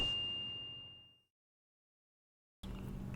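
A single bright notification bell ding rings out and decays smoothly over about a second, followed by silence and then a brief return of background sound.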